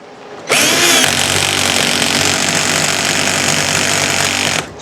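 A power screwdriver with its clutch slipping makes a loud, continuous rapid ratcheting clatter for about four seconds while the screw fails to drive in, then stops abruptly.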